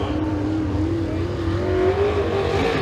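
A super late model race car running a qualifying lap at Eriez Speedway, its engine droning steadily with a gradually rising pitch, loud and sustained with no talk.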